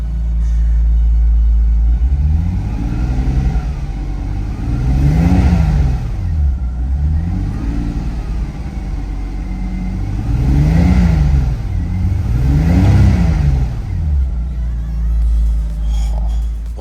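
A Toyota Supra engine runs steadily with a low rumble, rising and falling in pitch in several slow waves like gentle revving, fairly loud and close.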